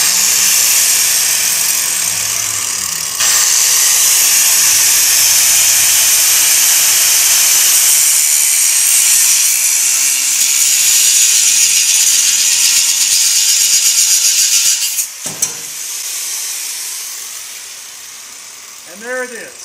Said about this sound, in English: I used the grinder to cut my line. And now I'm just going to finish cutting.